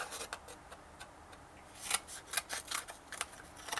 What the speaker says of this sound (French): Je vais couper au ciseau.